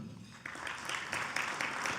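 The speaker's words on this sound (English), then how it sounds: "we did not hold our applause because they each deserve applause in their own rights" Audience at an awards banquet applauds in a steady, moderately distant patter of many hands clapping, swelling slightly after the first half second and continuing evenly.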